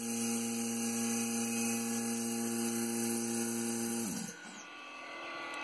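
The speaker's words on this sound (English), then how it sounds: "so that's how the vacuum pump runs this." A vacuum pump drives a mechanical gyroscope, giving a steady, close electric hum with a high whine layered over it. Near the end the sound drops off abruptly and winds down into a quieter rushing tail.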